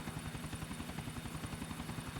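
Helicopter during a chase in GTA IV, its rotor thumping in a fast steady rhythm over a constant engine whine, continuous and moderately loud with no talk.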